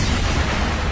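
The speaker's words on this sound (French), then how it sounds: "Sacha rendant la bombe à la Team Rocket qui explose et fait son truc." A cartoon bomb blows up with one short, dense boom that fills the moment, with no voice over it.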